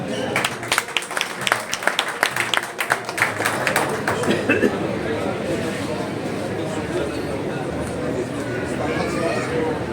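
Meeting audience at the India Islamic Cultural Centre claps loudly, sharp separate claps for the first few seconds that fade into a softer, scattered patter mixed with crowd murmur and chatter.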